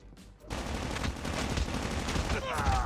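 Rapid automatic gunfire in the mobile shooter Call of Duty Mobile, a dense sustained burst of shots starting abruptly and continuing steadily at close range.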